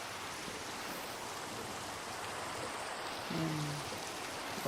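Rain falls steadily in the Minecraft video game, in a Create mod workshop build, as a continuous even hiss with a short low hum rising near the end.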